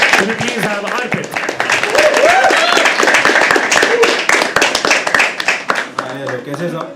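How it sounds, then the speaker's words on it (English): An open mic audience applauds a first-time performer at a live poetry event, steady crowd clapping with cheers mixed in, while a voice talks over it before the clapping thins out. "Start clapping, start clapping, start clapping."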